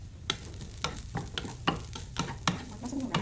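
Fried rice with sardines and egg is stirred in a pan, a spatula scraping in about eight distinct strokes over a low, steady sizzle, close and fairly quiet.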